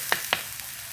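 Two quick sizzling hisses as chopped green chilies go into a hot wok of pangas fish curry with potato, each burst fading fast into a quiet background.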